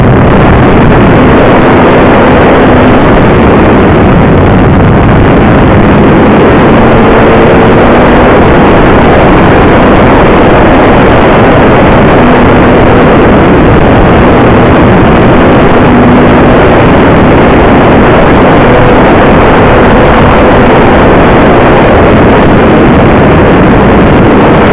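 Honda Super Cub motorcycle engine held at full throttle, a loud steady drone with heavy wind rush running unbroken and close for the whole stretch.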